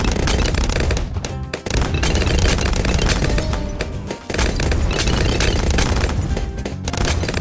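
Turbo damage laser bombs firing in Bloons TD6, a loud dense barrage of rapid blasts and bursts filling the whole stretch, with brief dips between volleys.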